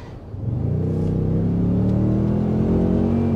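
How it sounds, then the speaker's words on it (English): A 2023 Toyota Sequoia Capstone hybrid pulls hard at full throttle, its engine note rising into a loud, steady climbing drone heard from the cabin, with a brief spoken remark at the start. "You punch that throttle and it's like no hybrid you've ever driven before"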